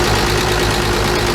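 A 1941 G-506 truck engine runs steadily and loudly up close, with a constant mid-pitched drone and slight knocking throughout.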